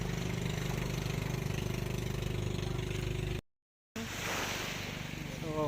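A motorboat engine idles with a steady low throbbing hum near a beach resort at high tide, cut by a brief dropout before resuming with water and wind noise.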